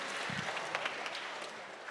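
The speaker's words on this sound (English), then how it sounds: "Can we give him a round of applause, please?" An audience at an awards ceremony gives a round of applause, a soft, distant wash of clapping that holds steady for a couple of seconds.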